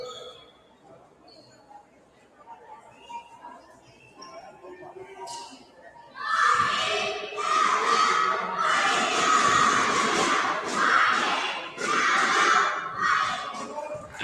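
A basketball crowd at an Indiana Legends game roars and cheers around a free throw, loud sustained shouting and whooping that swells in waves after a quieter stretch with a commentator's voice.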